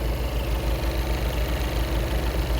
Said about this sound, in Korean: 지금부터 음악을 끄고 엔진 소리를 한번 들어보겠습니다